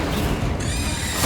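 The Incendio fire spell is cast in Hogwarts Legacy, a short rushing whoosh of flame with a crackling burst that swells at the end, loud and close.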